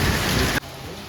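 Rain pours in a loud, steady hiss for about half a second, then cuts off abruptly to a much quieter background.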